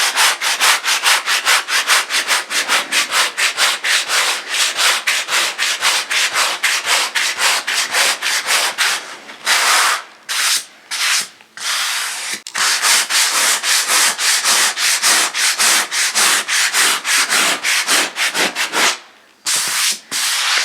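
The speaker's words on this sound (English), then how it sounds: "So I'm going to sand it down and start with a 60 grit." Rapid back-and-forth hand sanding with 60 grit paper works a scarf joint on a wooden rowing and sailing dinghy. The strokes are loud and close, rhythmic and continuous, with short pauses near the middle and near the end.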